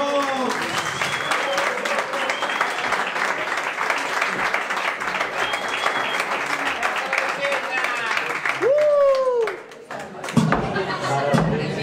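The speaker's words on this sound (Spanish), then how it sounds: "Un aplauso para Mansiña de Luz." Audience applause for the drag performer Maruxiña de Luxe at a live show in a bar, a steady wash of clapping filling most of the stretch, with a voice talking over it and a brief break near the end.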